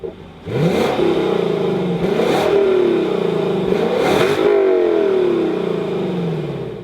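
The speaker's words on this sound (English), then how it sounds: "we show you a 5-liter V8 naturally aspirated engine with around 470 horsepower" A Lexus LC 500 coupe's 5-liter naturally aspirated V8 of about 470 horsepower barks to life and revs loudly several times in quick succession, then settles into a falling, rumbling drone, with no speech.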